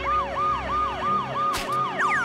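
An ambulance siren wails in a steady rising-and-falling cycle, loud and close, with a brief sharp clatter partway through.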